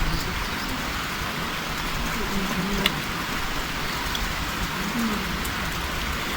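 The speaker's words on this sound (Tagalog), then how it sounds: "Ulan na naman dito." Steady rain falls on a summer campsite, a dense, even hiss of drops hitting surfaces close by and continuing without a break. Faint low rumbles sit underneath.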